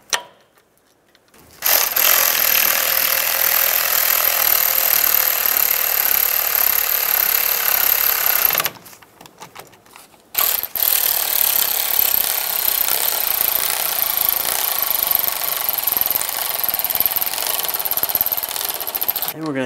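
A power tool runs in two long sustained bursts, a steady high buzzing whir, while driving brake caliper pins on a 2007-2014 Chevy Silverado 2500 HD front brake job, loud and close with a brief pause between.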